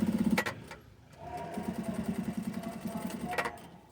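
A domestic sewing machine stitches along a zipper in two bursts, a short fast run and then a longer steady rattling run of rapid even stitches, close and fairly loud with no talk over it.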